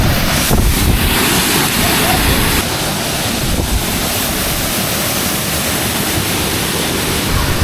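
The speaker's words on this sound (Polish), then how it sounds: "Wichura tutaj hula." Strong wind roars against the microphone in a continuous, heavy rush, with gusty buffeting and no clear pauses.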